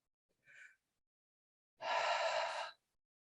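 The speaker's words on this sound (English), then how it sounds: "we're going to try to do some long, slow breaths with the mouth open" Two breathing sounds through an open mouth during a guided slow-breathing exercise: a short faint intake, then a longer, louder breath of about a second after a pause, with no talking.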